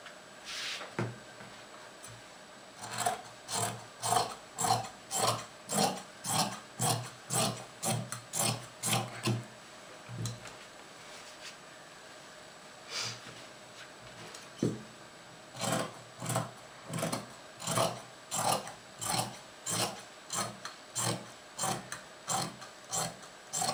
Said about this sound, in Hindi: तो चलिए फिर शुरू करते हैं कटिंग इसकी।